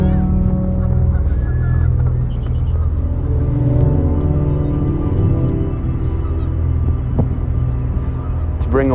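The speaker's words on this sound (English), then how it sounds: "The birds around me are screaming." Loud, harsh bird calls like honking geese ring out repeatedly over a steady low rumble of traffic.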